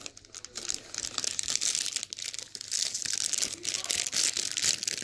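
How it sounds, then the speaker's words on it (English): Packaging around a computer heat sink is torn and unwrapped, giving continuous crinkly, papery ripping and crumpling close by, steady for several seconds with no talk. "We'll just tear it."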